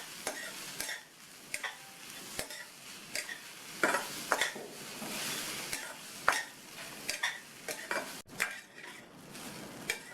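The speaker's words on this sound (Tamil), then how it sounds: "நல்லா கலந்து விட்டுடலாம்." Raw banana pieces are stirred with a coconut and cumin mixture in a pan. A spoon makes repeated scraping knocks against the pan over a soft sizzle, close and clear, with no talking.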